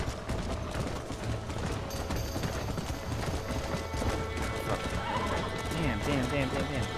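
Horses gallop in the Red Dead Redemption video game, a fast, steady clip-clop of hooves with neighs and whinnies mixed in, while a player talks over the continuous gameplay sound.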